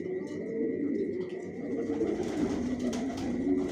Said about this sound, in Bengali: টপ কোয়ালিটির কবুতর পালি